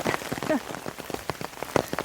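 Rain falls steadily and close, a dense patter of drops striking a surface with a few louder splashes mixed in.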